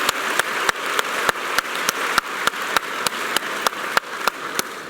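An audience at a school district convocation applauds in a steady, dense wash, punctuated by sharp, evenly spaced individual claps that keep a regular beat throughout.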